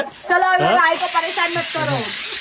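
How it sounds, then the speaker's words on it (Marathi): A pressure cooker cooking dal and rice lets out a steady loud hiss of steam, which starts partway through and continues under a person talking close by. "इकडं कुकर मध्ये मस्त डाळ बनते आणि भात पाकडते. आवाज येतोय"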